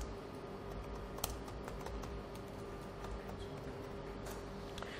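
Key presses on a computer keyboard while working in Power BI, soft irregular clicks with a few sharper taps, close and fairly quiet over a faint steady hum, with no voices.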